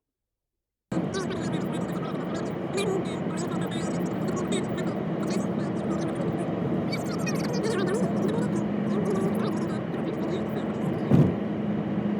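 Steady car interior road noise on the drive to the dump, a constant low rumble and hum that begins abruptly after a second of silence, with a brief louder bump near the end.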